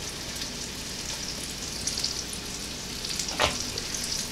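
Breaded chicken fries in hot oil in a pan with a steady, close sizzle and crackle. A brief louder splutter rises partway through, and no voices are heard.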